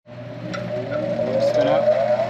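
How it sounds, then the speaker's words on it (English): A spinning wire wheel cleans a nut from a 1939 Burro Crane. It makes a close, loud, steady whine whose pitch creeps upward, with a harsh scraping hiss running through it the whole time. "Oh, let's wire wheel that and clean that up first."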